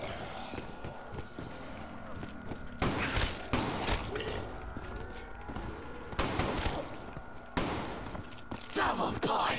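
Haymaker shotgun fire in Call of Duty Zombies: repeated loud, close blasts in quick clusters over a busy game soundscape, with a voice talking at times.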